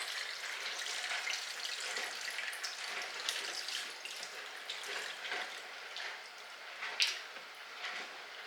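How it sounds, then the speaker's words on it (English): Turkey broth is poured through a strainer in a kitchen, a soft continuous liquid splashing and trickling with a few small spatters, fairly quiet and without talk. "I'm going to actually pour it through the strainer this way and hope that I don't spill it."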